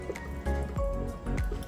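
A thick mixture of beaten egg and mixed fruit for a plum cake pours and glugs in a steady stream, with a few soft wet plops along the way.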